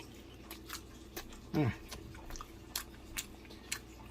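Someone bites into and chews a shrimp quesadilla nearby, with soft bites, a squelch and wet mouth sounds, and a few faint background noises.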